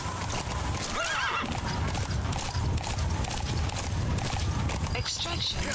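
A horse in the Metal Gear Solid video game whinnies, and its hooves clip-clop steadily throughout against a continuous game soundscape.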